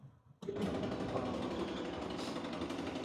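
A washing machine starts up after a brief quiet moment, then keeps running with a steady, fairly loud mechanical hum and whirr, with no voices.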